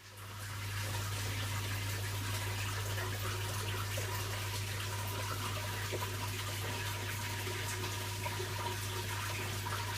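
Water pouring steadily into an aquarium tank during a refill, a constant loud rushing and splashing flow with a low steady hum beneath, unbroken for the whole stretch.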